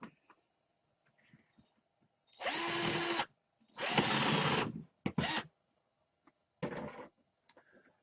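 A power drill bores a partial-depth recess into a board to seat a 3/8 inch nut, running in four separate bursts: two long, loud whirs, then a short blip and a final burst, with quiet pauses between them.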